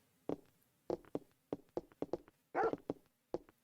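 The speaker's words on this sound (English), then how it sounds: "I'll introduce you to the best police dog in town." A police dog barks repeatedly in the video game Parasite Eve, a string of about a dozen short, sharp barks in an uneven rhythm, fairly faint and with no talk over them.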